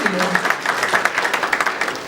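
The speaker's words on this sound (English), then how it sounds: "please give her a round of applause" An audience applauds a South African trade commissioner at a Chicago trade fair event, a steady wash of clapping with scattered sharper claps throughout, fairly close and continuous.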